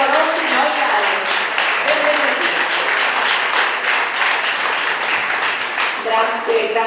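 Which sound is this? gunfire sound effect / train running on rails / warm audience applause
warm audience applause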